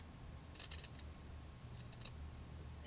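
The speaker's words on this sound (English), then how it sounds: "I'm just going to cut all of them apart" Scissors cutting apart the stitched fabric hands of a cloth doll, two quick bursts of crisp close snips about a second apart against a quiet background.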